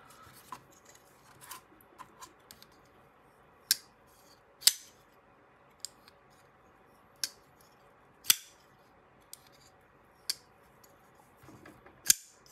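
A sharp knife blade cuts through paper in a series of crisp, separate slicing snaps and ticks, spaced irregularly over several seconds and heard close by in a quiet room.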